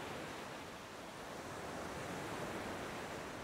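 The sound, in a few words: rough sea waves breaking on beach, Almada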